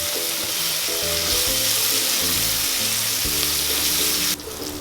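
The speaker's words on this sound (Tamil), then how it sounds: "உப்பு ஆட் பண்ணிட்டீங்கன்னா வெங்காயம் கொஞ்சம் சீக்கிரமா வதங்கிடும். நல்லா வதக்கி விட்டுக்கோங்க." Onions sauté with salt and green chilies in a pan for a mushroom biryani, giving a loud, continuous close-up sizzle with occasional stirring. Soft background music plays underneath throughout.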